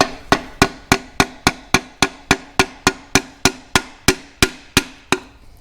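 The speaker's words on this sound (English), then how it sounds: "We're just going to tap the piston down." A hammer taps an engine piston down into its bore during a teardown, about eighteen sharp, evenly spaced metallic knocks with short ringing decay, close and fairly loud, no talking.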